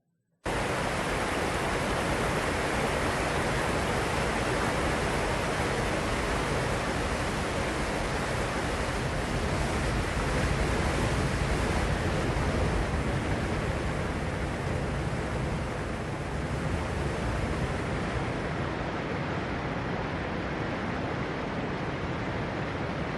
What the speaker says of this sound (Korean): 이구아수 폭포입니다.